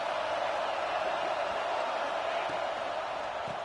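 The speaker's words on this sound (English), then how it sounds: "This crowd ready to make its presence known." Steady crowd roar fills a stadium during a Georgia versus Tennessee college football game, a dense continuous wash of many voices, loud and unbroken throughout with no distinct individual talk.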